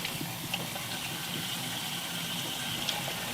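Hot water streaming into a Pinter home-brewing keg while brewing an espresso stout. It makes a constant, even rushing and hissing pour with a few small splashy ticks, heard alone without talk.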